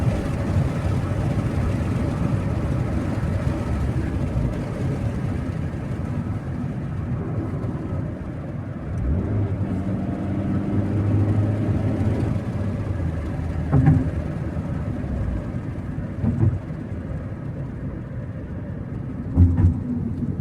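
Engine of a Honda Civic droning steadily from inside the moving car, a loud continuous low rumble with road noise, shifting slightly in pitch as it accelerates, with a few brief knocks near the end.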